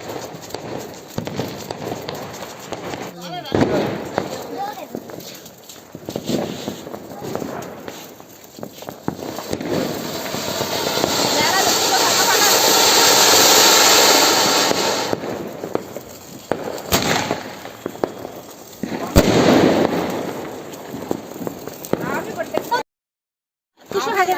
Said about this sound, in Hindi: और इसके बाद हम लोग चलाएंगे पटाखे।